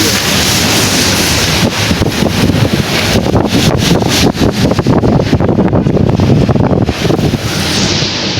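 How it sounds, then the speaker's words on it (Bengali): A fierce storm of wind and rain buffeting the microphone in loud, roaring gusts with rhythmic pulses of pounding rain, close and overwhelming throughout. "সেই লেভেলের ঝড় বৃষ্টি হইতেছে"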